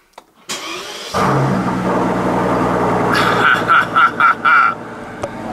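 A starter whirs briefly before a Mercedes S65 AMG V12 fires up loudly on a cold start and settles into a rich, steady idle, with a few quick rising blips near the end.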